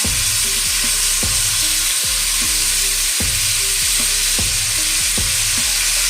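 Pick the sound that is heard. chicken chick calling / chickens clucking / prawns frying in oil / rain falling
prawns frying in oil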